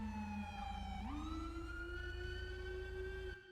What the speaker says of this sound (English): we can hear theirs, so sirens do work